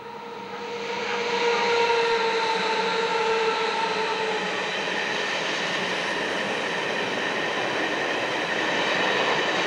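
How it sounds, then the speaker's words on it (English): An empty iron ore freight train on the Malmbanan line in Sweden rolls past with a steady roaring rumble and rattling wagons, swelling in the first seconds and then holding loud and constant. "empty ore train returns to Kiruna for its next load."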